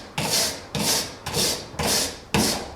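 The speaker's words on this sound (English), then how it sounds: "I'm pretty sure this grinding disc is like 20 grit or something" A coarse grinding disc, around 20 grit, shapes a wooden hammer head in five rough, abrasive strokes of even rhythm, each a loud close rasping sweep with short gaps between.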